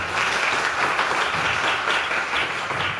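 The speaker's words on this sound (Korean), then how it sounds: "박수 한번." A church congregation at a Wednesday prayer service claps together in a dense, steady round of applause, fairly loud and continuous throughout.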